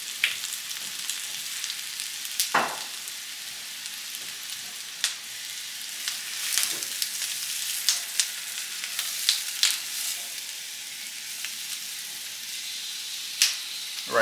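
Potatoes and ground beef frying in olive oil in a pot give a continuous close hiss, dotted with scattered crackles and pops, and no voices are heard.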